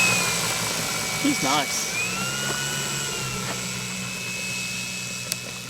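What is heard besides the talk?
RC Yak-11 model plane motor taxiing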